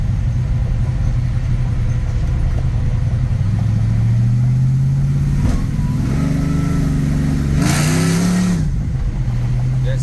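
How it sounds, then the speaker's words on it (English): A stroked, supercharged LS engine in a 1970 Chevrolet C10 idles with a deep, steady rumble, then gets a few light blips of the throttle that rise and fall in pitch, loud and close. "That's just literally barely touching the gas."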